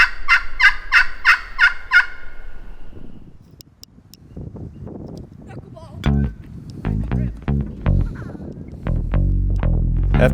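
A wild turkey gobbles near a property line, a rapid rattling burst of about six pulses heard at the start, followed by rustling and knocking sounds; a voice also speaks.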